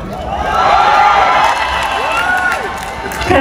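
Audience at the Puteri Indonesia 2023 pageant's top-three question round shouts and cheers loudly for the Lampung finalist, a sustained crowd roar with whoops rising and fading.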